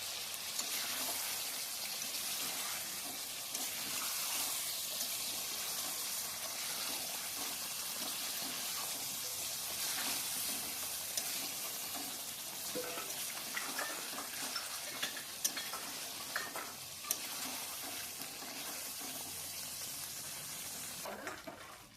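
Chicken being sautéed in a pan with water sizzles quietly and steadily, with faint scraping and stirring clicks throughout and no voices.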